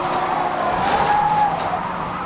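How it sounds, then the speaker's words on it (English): An 18-wheeler semi truck skidding with locked wheels, a loud sustained tire screech over rumbling road noise that holds for about two seconds. "The truck's wheels lock up."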